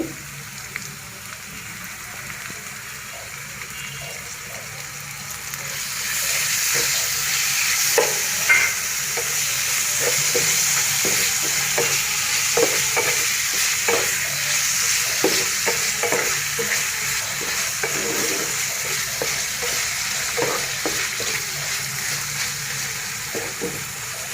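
Small chicken pieces for a chicken vegetable roll sizzle steadily in a hot pan as they are added, with repeated scraping stirs clicking through the frying, loud and close, no speech.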